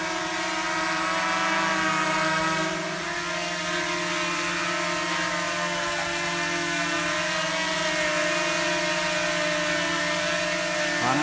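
An EX5 GPS mini drone with brushless motors hovers outdoors in windy rain, its motors giving a steady high buzzing whine with layered harmonic tones that waver slightly as it steadies, loud and continuous throughout.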